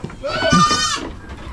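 A single small goat lets out one wavering bleat lasting about a second, close by on a farm, with faint background noise around it.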